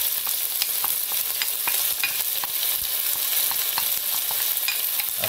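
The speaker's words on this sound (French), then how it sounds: "Donc l'huile est chaude, on va mettre les oignons, les échalotes" Onions and shallots frying in hot oil for filet mignon with morels, a steady dense sizzle with scattered crackles and a few stirring scrapes, close and continuous with no talk.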